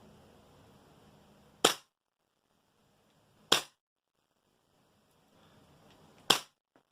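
A Tokyo Marui MWS airsoft rifle fires three sharp, loud single shots, spaced about two to three seconds apart, with quiet in between.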